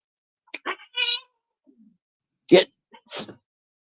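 Barn cats meow in short, separate calls, with one sharper sneeze-like burst partway through, close by and fairly loud against near silence.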